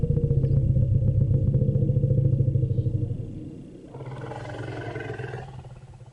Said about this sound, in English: So that sound you heard there was a call being played to what we call Margaret, an elephant called Margaret, addressing her.